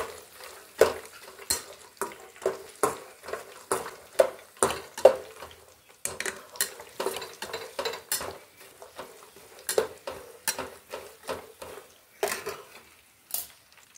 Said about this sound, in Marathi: आता याच्यामध्ये शेंगदाणे पण घालून घेणार आहे। याला पण व्यवस्थित चांगलं परतून घ्यायचं आहे।